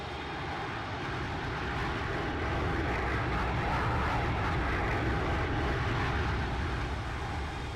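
A Boeing 737 lands in the X-Plane 12 flight simulator, its engine roar steady, loud and broadband throughout with no break and no talk over it.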